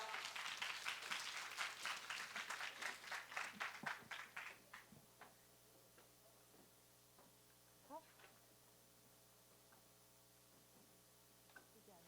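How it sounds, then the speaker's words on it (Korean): An audience at a university major information session applauds to welcome a professor and student presenter: dense, steady clapping for about four seconds that thins out to a few scattered claps, then near silence with a faint electrical hum. "박수 부탁드립니다"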